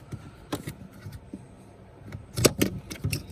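A plug comes off the blower motor connector under the dash of a Jeep TJ. Faint rustling builds to a few sharp plastic clicks and snaps near the end, up close and quiet, with no voices.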